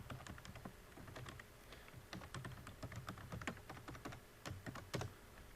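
A password is typed on a computer keyboard in a quiet room, quick close key taps in short irregular bursts with no talking.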